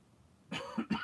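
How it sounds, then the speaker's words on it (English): A single person coughs twice in close succession, close to the mic, the second burst sharper, after half a second of quiet room tone. "Cough, go away."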